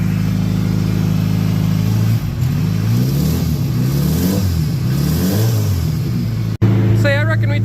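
A car engine idles and revs after a cold start, a loud rough rumble rising and falling in uneven surges, then a sudden cut followed by a higher revving burst with a voice briefly audible near the end.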